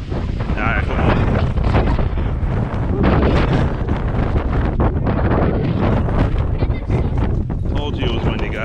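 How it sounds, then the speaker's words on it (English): Strong gusts buffet an outdoor microphone during a windy dog walk, a continuous loud rumbling roar that swells and dips without pause and drowns out everything else. "Told you it was windy, guys."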